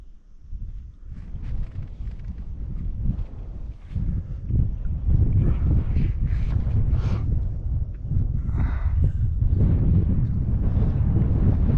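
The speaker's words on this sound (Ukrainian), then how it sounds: "Плюс вітер боковий зараза." Strong crosswind outdoors at a bass-fishing spot in Spain buffets the microphone in low, rumbling gusts that swell and ease, close and loud throughout.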